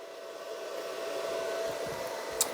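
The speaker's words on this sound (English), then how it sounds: "that guy is ready to get wire wheeled" An angle grinder with a wire wheel cleans a weld, making a steady, fairly quiet whirring whine with a short tick near the end.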